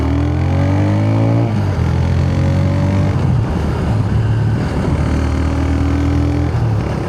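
A TVS Raider 125 motorcycle pulls away in first gear, its engine note climbing in pitch, dropping and rising again as it moves off, loud and close.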